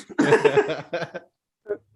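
A voice breaks into a rough fit of coughing up close, then trails off, with one fainter cough after a short silence.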